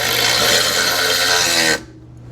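A power tool whirs loudly and steadily as it tightens a bolt on an A-arm guard of a 2022 Polaris Sportsman 570 ATV, then cuts off abruptly, leaving a quiet room.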